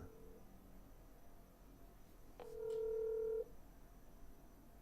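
A short series of telephone keypad tones, then one longer steady beep over a faint background hiss.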